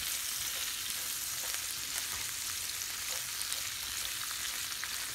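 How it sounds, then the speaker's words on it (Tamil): Ivy gourd (tindora) sautéing in a pan with chili powder over a medium flame gives a steady, dense sizzle and crackle that runs without a break, close and alone with no voices. "இதை நல்லா வணக்கி விட்டுக்கோங்க"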